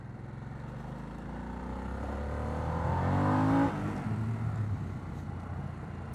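A Harley-Davidson Sportster S motorcycle accelerates hard, its engine swelling to a loud peak and then dropping off as the throttle eases, heard alone as one continuous run.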